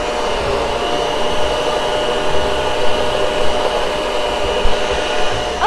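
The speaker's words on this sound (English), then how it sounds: "I am going to blend that together" Steady, loud whirring of an electric blender or mixer working sweet potatoes and butter into pie filling, running continuously at close range with no voices.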